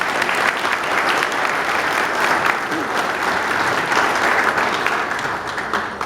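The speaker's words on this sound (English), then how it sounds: "I'd like to give them a round of applause." Loud, steady audience applause for sponsors at an opening event, a dense continuous wash of clapping from a crowd filling the room throughout.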